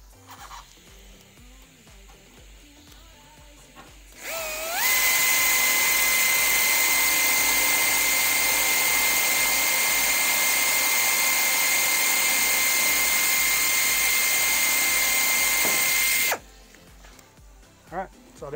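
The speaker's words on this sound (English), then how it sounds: "This 45 air drill is perfect because it allows me to get the right angle both vertically and horizontally to make sure I'm 90 degrees in" A 45-degree angle air drill drilling pilot holes in aircraft wing top skin. It spins up with a rising whine, then holds a loud, steady, high-pitched pneumatic scream for about twelve seconds before cutting off abruptly, heard up close.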